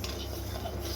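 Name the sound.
dry-roasting rice in pan on slow flame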